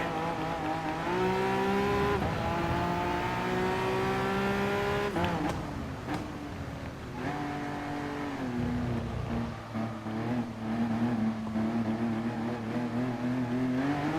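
A mid-engine Group 3 race car in Gran Turismo Sport drones loudly and steadily, its engine pitch climbing and dropping through several gear changes, with no talking.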